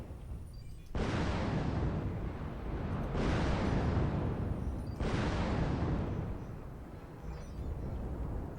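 Long LRM missile barrages from the video game MechWarrior Online, a Hunchback 4J mech under fire, rolling out as three loud, dense rumbling bursts that swell and decay one into the next.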